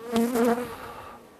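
A honey bee colony buzzing at the hive in winter, a close droning hum that swells briefly and then fades over about a second and a half, with no voices.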